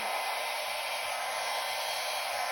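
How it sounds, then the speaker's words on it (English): Hair blow dryer running on a low, cool setting to blow out a small fluid-art pearl pour tile, a steady, loud, continuous airy whoosh with an even hum throughout. "I'm going to grab my blow dryer, and on the low cool setting, we're going to blow this out."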